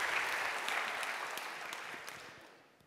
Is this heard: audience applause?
yes